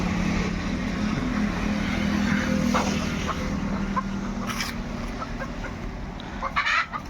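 Free-range desi hens, including Aseel, Sonali and Kadaknath, cluck and murmur steadily outdoors on a farm in Kamareddy amid a low rumbling background, with a few sharper calls near the end.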